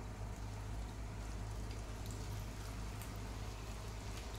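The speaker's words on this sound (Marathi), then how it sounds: "आता आपल्याला स्टिक्स आहेत आपल्या ह्या तेलामध्ये सोडायच्या या पद्धतीने." Potato sticks frying in hot oil, a steady, dense bubbling sizzle with fine crackles, even in level throughout with no one speaking.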